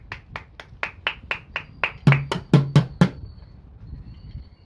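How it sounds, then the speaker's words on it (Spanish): About a dozen crisp hand claps in a steady rhythmic beat greet a costumed fishermen's queen at a modeling show. The claps start light, grow louder and punchier toward the end, then stop. "¡Fuertes los aplausos!"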